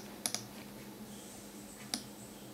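A few sharp keystrokes on a computer keyboard while entering a value in After Effects: two quick taps close together, then one more after a pause, near and crisp against a quiet room hum.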